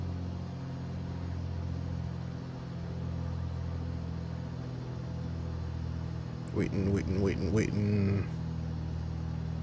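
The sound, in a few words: Piper PA-28 engine run-up in video game MSFS2020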